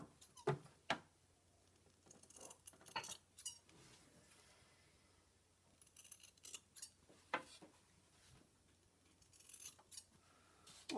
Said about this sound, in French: on coupe nos fils, on coupe les coins.